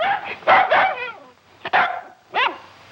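A dog barks in three or four short, loud bursts close by, with brief pauses between them and no talking.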